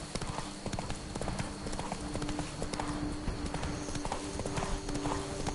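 Roach the horse trotting in a video game, a steady, close clip-clop of hooves carrying on throughout with a faint tonal game background.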